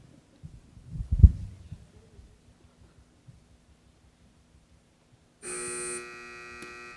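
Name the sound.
quiz buzzer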